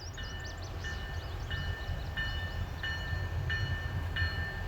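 An Iowa Northern train passes through Cedar Falls, Iowa, sounding a series of horn blasts at a regular rhythm over a low engine rumble, moderately distant and steady throughout.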